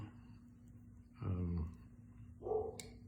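A dog barks twice, two short bursts separated by about a second, at moderate volume against a quiet room background.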